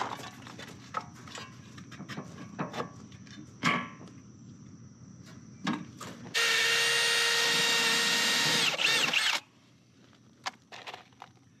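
A power drill with a 1/8 inch bit driving 5/16 self-tapping screws for a pool cover lid riser, one steady whirring run of about three seconds amid scattered knocks and clicks, no voices.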